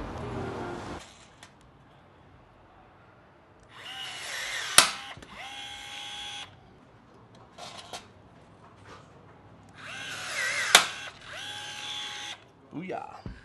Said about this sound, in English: First rivet.